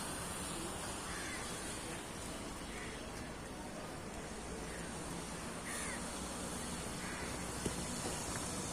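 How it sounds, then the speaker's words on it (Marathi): Crows caw from a banyan tree in a few scattered, fairly distant calls over a steady wash of outdoor hiss and background noise. "वडाच्या झाडावर बघा किती पक पक्षी कावळे बसलेले आहेत"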